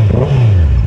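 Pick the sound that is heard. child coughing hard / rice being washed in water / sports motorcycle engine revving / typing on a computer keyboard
sports motorcycle engine revving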